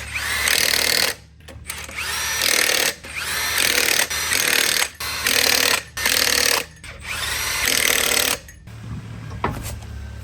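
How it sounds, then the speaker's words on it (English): A power tool runs in repeated bursts while tightening lug nuts on the 37-inch wheels of a lifted Ford F250 Power Stroke, about five loud close whirring pulls separated by brief pauses. "Always torque your lug nuts."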